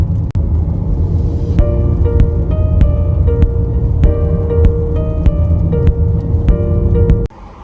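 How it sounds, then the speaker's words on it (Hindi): Steady rain hisses and patters continuously, with sharp clicks and a faint tonal hum riding over the downpour. "ये देखो बारिश भी आ गई अब यहाँ पे"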